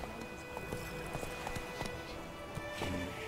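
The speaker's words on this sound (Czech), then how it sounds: "To je ta jízda na koni teda." Horse hoofbeats while riding in the video game The Witcher 3: Wild Hunt, a steady clip-clop rhythm of repeated hoof strikes over game ambience, fairly faint and with no talk over it.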